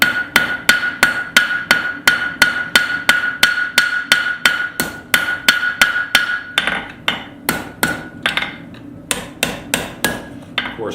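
A hammer strikes hot flat steel while forging a pair of flat stock blacksmith tongs, landing in a steady, rapid series of loud, close, ringing blows with short pauses near the end.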